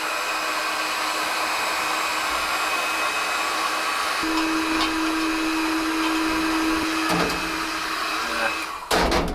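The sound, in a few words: heat gun blowing hot air on old air compressor paint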